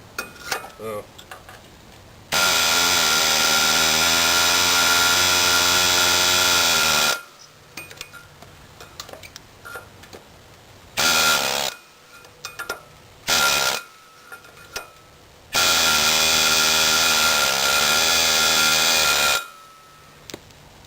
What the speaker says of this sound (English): I got my air hammer.